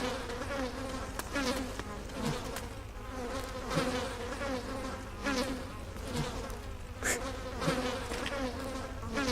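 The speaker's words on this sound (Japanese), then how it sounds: "ハエの音うるさいし" A housefly buzzes continuously close to the microphone, a faint droning whine that wavers as it moves around, with no talking over it.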